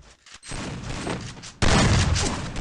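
Gunfire in the Free Fire battle royale video game, a loud burst of shots that jumps up sharply partway through and continues as sustained rapid fire.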